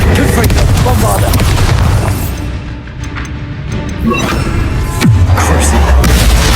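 Bombarda blasting spell cast in the Hogwarts Legacy video game, loud booming explosions with heavy low rumble and crashing debris, a dense continuous barrage of combat noise.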